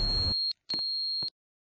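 Elevator door warning beeps in a Roblox game: a steady high electronic tone sounding in three bursts with short gaps, the first joined by a brief rumble of other game noise.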